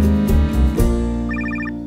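A cell phone ringtone sounds loud and close, with a repeating melodic chime pattern that plays alone over a steady tonal backing.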